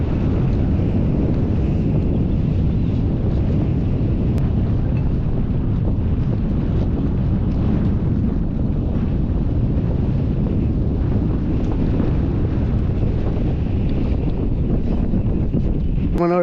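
Strong wind on a mountain trek up the steep rock-cut steps of Harihar Fort, roaring as constant loud buffeting against the microphone with a deep rumble that never lets up.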